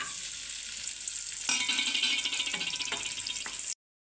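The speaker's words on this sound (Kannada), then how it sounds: "ಈಗ ತುಪ್ಪಕ್ಕಾದ್ಮೇಲೆ ಈಗ ದ್ರಾಕ್ಷಿ ಹಾಕ್ಬೇಕು." Raisins drop into hot ghee in a pan for kesari bath, setting off a bright, steady frying sizzle that jumps louder midway with a few soft rattles before cutting off abruptly.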